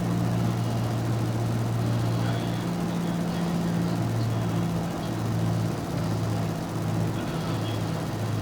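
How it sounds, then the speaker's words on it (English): Steady droning airplane engine in the flight simulator X-Plane 11 as the aircraft slows on approach to landing, a continuous loud hum with stable low tones and no pauses. "Slowing this plane down a little bit more."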